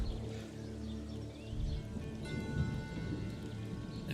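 Steady rain patters in the fantasy MMORPG Monsters & Memories, a soft, even wash of drops on surfaces with faint rustling beneath, quiet and continuous throughout.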